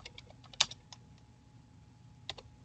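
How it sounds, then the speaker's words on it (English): A computer keyboard clicks out a sparse run of keystrokes, quiet and close, with a sharper tap early on and a couple more near the end. "So I'm simply going to type"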